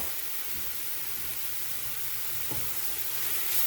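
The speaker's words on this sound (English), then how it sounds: "And you want to cook this down for 1 to 2 minutes. You basically want to just wilt your spinach." Spinach wilts in an oiled pan with mushrooms and shallots, a continuous hissing sizzle at moderate loudness with no speech.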